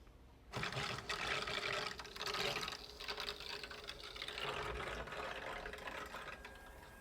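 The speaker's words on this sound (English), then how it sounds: "let's go ahead and turn the water back on to make sure that we don't have any leaks." Water rushing back through a plumbing line and thermostatic mixing valve after a piston and liner replacement, a steady broadband hiss that starts abruptly and keeps flowing at moderate level, close by.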